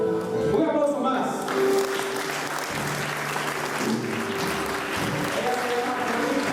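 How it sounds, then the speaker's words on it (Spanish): A church congregation applauds during a service, the clapping mixed with a held organ or keyboard tone and some murmuring voices, steady and fairly loud throughout. "Un aplauso más."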